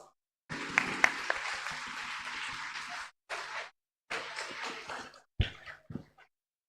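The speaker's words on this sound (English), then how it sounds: "let us welcome the gathering with a loud round of applause." Students applauding at a school investiture ceremony, a broadband burst of clapping from a crowd in several bursts, fading in and out with short pauses and a few stray claps at the end.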